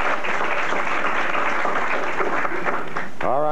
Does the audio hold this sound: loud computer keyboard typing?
no